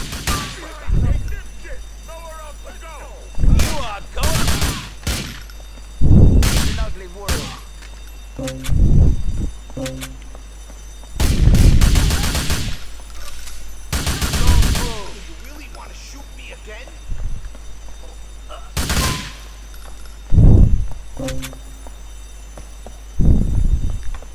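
Pistol shots ring out in Grand Theft Auto IV, loud sharp bursts scattered irregularly over about twenty seconds, some in quick pairs, mixed with game sounds and a voice talking between shots.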